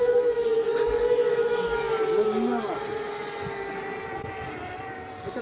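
A small FPV drone gives off a thin, high buzzing whine that drifts in pitch and slowly fades a little, with a low rumble underneath.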